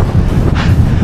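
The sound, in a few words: strong wind while road cycling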